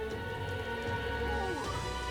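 Steady rain falls in the video game Metaphor: ReFantazio, a continuous soft hiss of drops with a faint tonal game hum underneath, no voices.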